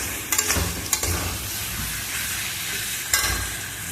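Spices and potol chingri (pointed gourd with prawns) being stirred and sautéed in a pan, giving a steady close sizzle broken by a few sharp scraping strokes of the spoon.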